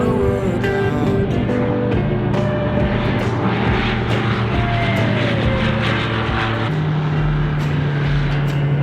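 A floatplane on floats makes bush landings in the Oregon/Idaho backcountry, its propeller engine a loud, continuous drone that shifts pitch and deepens near the end.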